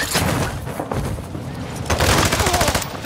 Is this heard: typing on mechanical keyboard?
no